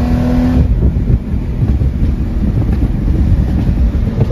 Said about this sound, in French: le M20, c'est vraiment un des moteurs mec, qui fait un bruit incroyable